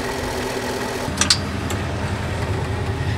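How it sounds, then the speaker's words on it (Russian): A KhTA tractor engine runs steadily while working a field during spring soil preparation, a low continuous rumble with a couple of brief sharp clicks near the start. "Трактор ХТА нужен для финишной подготовки почвы перед посевом."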